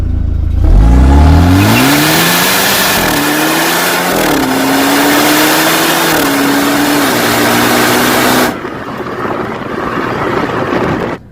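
A BMW with a Stage 2 bootmod3 tune accelerates hard, its engine note climbing through several gear changes, loud and close, before easing off near the end.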